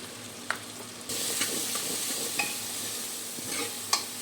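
Spices with coriander powder fry in a pan, a close, steady sizzle that swells after the first second, broken by several sharp scraping clicks of a spoon stirring against the pan, with no talking.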